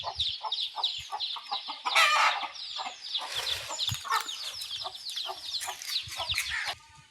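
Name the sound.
chicks clucking and making noise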